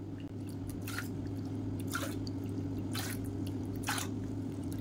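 Water is poured into ground horse gram and barley for a kanji, making four short splashing bursts spaced about a second apart over a low, steady background hum.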